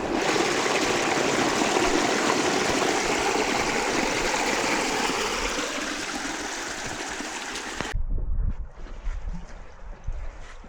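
Rushing water of a creek running along a hiking path on the Mt Anne Circuit, a loud, steady broadband flow close to the microphone for about eight seconds, then cutting to quieter water with faint knocks and movement.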